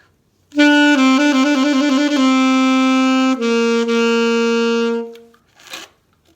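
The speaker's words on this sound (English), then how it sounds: "This is going to be a Baroque trill," A single instrument plays a rapid Baroque trill from a Vivaldi sonata, quick alternating notes starting on B and settling into a held tone, then a second sustained note ending with a soft thump.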